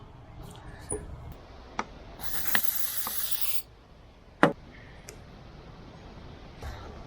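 An oil spray can hisses onto a seized part of a vintage tractor that sat rotting by a swamp, giving one sustained burst of about a second and a half among scattered metallic clicks and taps.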